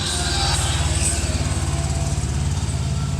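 A 2023 Honda Accord Sport Hybrid car running just after starting, a steady low engine hum with a pulsing rumble throughout, close and fairly loud.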